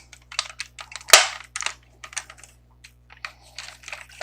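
A Zeta Toys Kronos figure's ratchet ankle joint clicks in a quick close series of small dry snaps, one sharper louder click among them.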